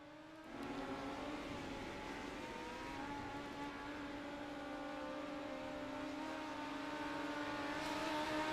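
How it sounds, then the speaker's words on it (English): Race cars lap a track at Charlotte in a Mighty Midget series, a distant engine drone with rising and falling whine that swells slightly toward the end, heard faintly from afar. "As you can hear the cars in the background making some laps."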